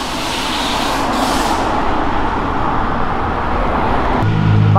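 A tuned Chevrolet Opala six-cylinder engine rumbles steadily and loudly close by, a continuous deep roar with no talk over it.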